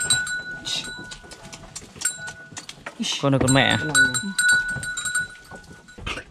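Goats on a farm give a loud, wavering bleat near the middle, with a bell clinking and someone talking in Vietnamese around it.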